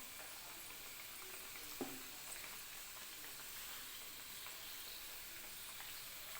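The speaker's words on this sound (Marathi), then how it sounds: "बारीक गॅसवरतीच आपल्याला ह्या खारी तळून घ्यायच्या आहेत." Khari pastries deep-fry in oil on low heat, producing a soft, steady bubbling fizz with a couple of brief utensil knocks.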